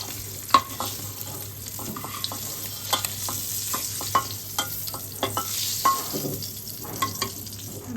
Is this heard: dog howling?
no